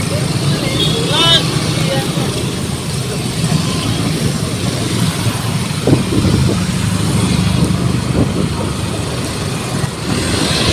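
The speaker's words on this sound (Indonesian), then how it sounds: "Ini macet." Jammed road traffic during a student demonstration in Makassar: a steady, dense rumble of idling and creeping car and truck engines with broadband street noise, while someone talks over it.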